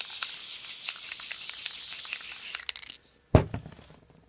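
Spray can misting clear coat onto wet paint, a loud steady hiss for a few seconds that stops, followed by handling rustles and one sharp burst of spray.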